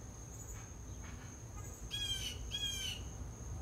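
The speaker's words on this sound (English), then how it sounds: "There's an angry crow above me right now." An angry crow caws overhead outdoors, two harsh squawks in quick succession standing out over a quiet background hiss, with faint chirps earlier.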